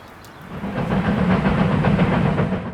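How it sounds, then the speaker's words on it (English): Yreka Western steam locomotive 19 rolls in with an excursion train at Cottage Grove, a loud, close, steady rumble with hissing steam and rhythmic clatter building and holding throughout. "The 19 arrives into Cottage Grove with its excursion consist."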